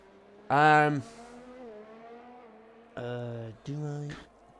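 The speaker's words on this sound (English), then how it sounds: "McLaren of XRL Anderson is out trying to get his tires warmed up so he can get a run going." A McLaren race car in a racing video game revs in short harsh bursts, one early and two more near the end, with a quieter engine drone between them and a commentator talking.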